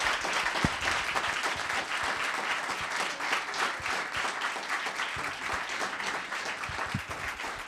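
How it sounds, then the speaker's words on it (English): A council chamber audience in Los Gatos applauds Robertson Publishing and PRO-COLOR, a sustained round of many hands clapping, fairly even and moderately distant, with no talk on top. "Let's have a big round of applause for Robertson Publishing and PRO-COLOR."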